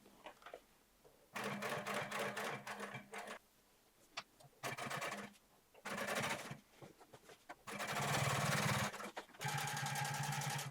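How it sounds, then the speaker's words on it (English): Sewing machine top stitching a seam on jeans, running in several separate bursts of rapid, steady stitching with short quiet pauses between them, close and fairly loud. "stitch the first row of top stitching"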